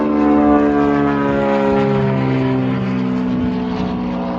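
A propeller airplane at a county airport, its engine droning steadily and loudly throughout with a rich harmonic hum that slowly shifts pitch, as if taxiing or running up nearby.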